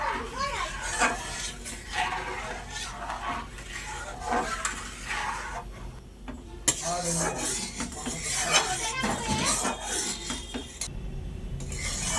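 Milk being stirred quickly and constantly in a pot over a gas stove, a steady scraping and rasping of the utensil against the pot that runs throughout, with a brief break midway, fairly close and clear.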